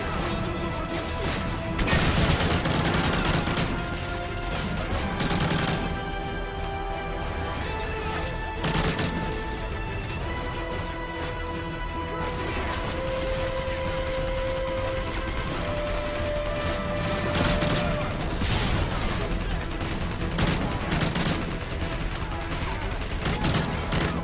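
Dense, continuous gunfire and explosions from Call of Duty Modern Warfare 3 single-player combat, with overlapping rapid shots, crashes and a steady wash of battle noise across the whole stretch.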